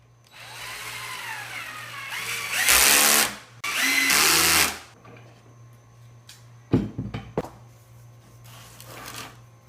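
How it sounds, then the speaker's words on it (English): Power drill pre-drilling a screw hole in wood while building a king-size headboard, two sustained whirring bursts of a few seconds each up close, followed by scattered clatter and handling knocks. "I might go ahead and just pre-drill for the Craig screw"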